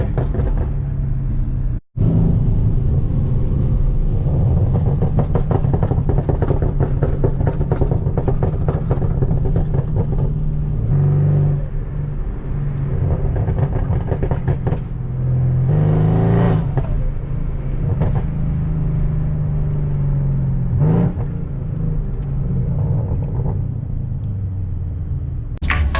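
A tuned Mercedes-AMG C63S engine rumbles steadily from inside the moving car, a deep continuous drone with swells and faint whirring as it rolls along on its own with no throttle input, loud throughout.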